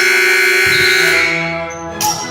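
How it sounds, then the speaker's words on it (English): A loud, sustained electronic buzzer ends the third quarter of a high school boys' varsity basketball game, blaring for about two seconds and ending with a brief burst at the close. "With the sound of the buzzer ending the third quarter"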